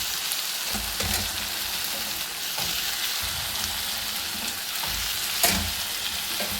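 Ivy gourd (kovakkai) sautéing in oil with tomato, a dense close sizzle with occasional stirring knocks and one sharper spatter pop near the end, no speech.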